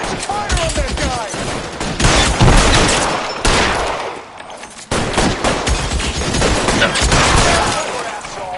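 Gunfire in the video game L.A. Noire: dense, loud bursts of shots crackle through most of the stretch, with a brief lull midway, and heated voices can be heard among the shooting.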